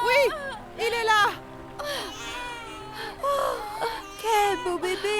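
A newborn baby cries just after birth in a dramatized delivery scene, loud close wails and whimpers coming in repeated rising bursts with brief breaths between.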